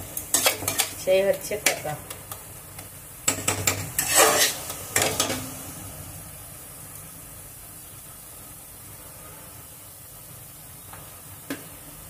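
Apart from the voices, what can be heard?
stirring leafy greens (saag) in a pan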